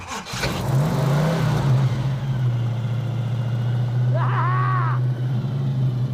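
A classic car engine from a restored shed find fires up loud and close, settling into a strong steady rumble with a brief revving swell midway, while people talk over it.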